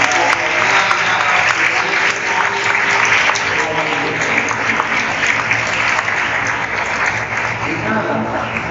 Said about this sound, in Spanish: Vamos a dar un aplauso a María.